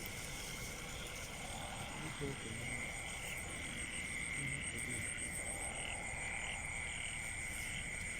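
Frogs croak at night in a rural Thai setting near a factory estate, a steady chorus of calls running throughout over constant insect-like hiss, with faint low rumbling beneath.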